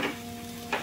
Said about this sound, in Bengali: এবার একটু সব প্লেটে যা লেগেছিলো সব দিয়ে আবার ভালো করে সব কিছু একসাথে মিশিয়ে নেড়ে নিতে হবে